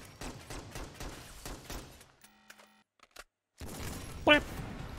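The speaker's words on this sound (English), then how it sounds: "Bit of a pew-pew gun, but it does some sweet damage." Rapid bursts of gunfire from a gun in the video game Synthetik: Legion Rising, a fast run of sharp repeated shots, a brief mechanical pause, then a loud blast and more noisy shooting.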